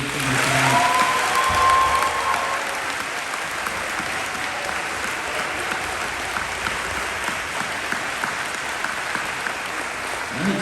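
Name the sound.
round of applause for seniors at signing day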